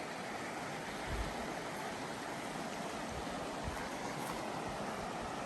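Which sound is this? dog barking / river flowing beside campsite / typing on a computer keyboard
river flowing beside campsite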